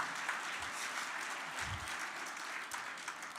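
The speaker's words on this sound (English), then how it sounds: "Round of applause, guys." Applause from a graduation ceremony audience in Johannesburg, a steady fairly faint wash of clapping that continues throughout without pause.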